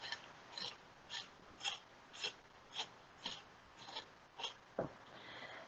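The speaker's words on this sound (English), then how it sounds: "Now, the Japanese cucumber have a little thorns everywhere. So this is what I do. Just scraping on the side." A knife scrapes the thorny skin of a Japanese cucumber in a home kitchen, giving about nine evenly spaced rasping strokes, each short and crisp, followed by a slightly heavier final scrape and a soft rustle.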